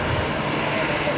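Link Airways Saab turboprop at Brisbane Airport, a steady engine drone from a distance with people talking over it.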